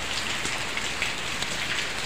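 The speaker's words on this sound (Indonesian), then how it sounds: "Hujan deras ini" Heavy rain pours steadily around an L300 pickup during flooding in Semarang, a dense continuous hiss of drops drumming on surfaces, close and loud with no break.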